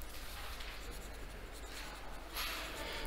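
A marker or eraser rubs across a board in a steady, continuous scrubbing swish with no pause, and it grows slightly louder near the end.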